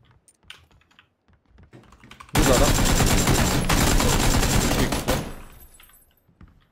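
Long burst of automatic gunfire in PUBG, about three seconds of loud rapid shots preceded and followed by keyboard clicks and quiet mouse sounds, with a voice speaking faintly now and then.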